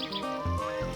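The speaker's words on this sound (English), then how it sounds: "I love the My Summer Car bird sounds." Birds chirp in the video game My Summer Car, short tweeting calls over a steady tonal game ambience with a low rumble, continuous and moderately loud.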